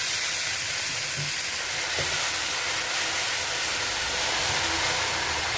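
Spinach frying and being mixed in a pan makes a loud, steady, hissing sizzle from close by, broken by occasional faint scrapes of stirring, with no voices.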